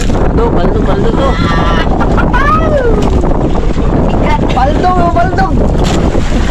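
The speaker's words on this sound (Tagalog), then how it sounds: "lumakas yung hangin" Strong wind roars across the microphone at sea aboard a small fishing boat catching squid, a loud steady rush with water sounds beneath and voices talking intermittently.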